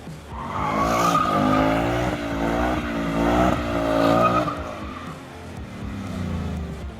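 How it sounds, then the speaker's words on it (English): A 2022 Ford Mustang Mach 1 with traction control switched off doing a burnout, loud sustained engine roar with rising and falling revs and squealing tires, close and continuous, fading toward the end. "completely switch off traction control. Burnouts, anybody?"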